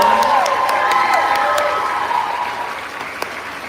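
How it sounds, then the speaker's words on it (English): A crowd at an alopecia-celebration fashion show cheers, claps and whoops loudly as models come out, a dense sustained roar with sharp shouts and whistles that eases slightly toward the end. "please cheer, scream, chant"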